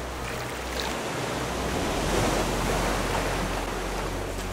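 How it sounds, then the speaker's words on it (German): Sea waves in the survival video game Raft, a steady, loud wash of surf and wind-like noise that rolls on continuously without any talk. "Oh, das Meer wird unruhig."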